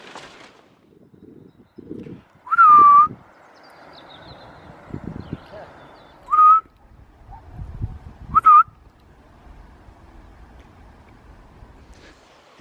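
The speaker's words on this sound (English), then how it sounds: "if you whistle as you feed them, you can just open your back door, whistle, and they come" A person whistles a call for cats at feeding time on a rural homestead in Wales: three short, bright rising whistles spaced a few seconds apart, each loud and clear, with quieter rustling and handling noise between them.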